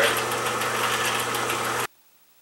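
A restored Atlas benchtop horizontal milling machine running with a steady humming drone and slight vibration, then cutting off abruptly into silence.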